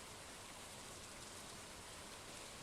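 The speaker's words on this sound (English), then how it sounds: "Oh, now it's raining." Rain falls in the game Stardew Valley as a steady, even hiss of drops, faint and continuous with nothing else heard.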